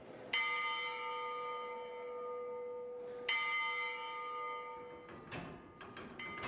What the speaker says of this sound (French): Pierre l'assourdisseur sonne les heures sur la grande cloche.